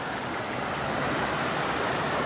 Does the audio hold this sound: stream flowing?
yes